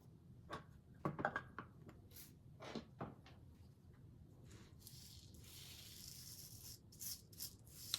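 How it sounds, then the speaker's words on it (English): A trim painter brush sweeps rhinestones across a plastic template, giving soft rustling strokes with scattered tiny clicks of stones, quiet and close, in irregular circular passes. "And then I use the trim painter and I just brush in the rhinestones."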